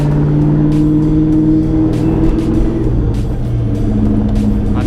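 Steady engine drone of a Corvette cruising on the road, a loud continuous low rumble with slight swells in revs, heard from inside the car with no talking.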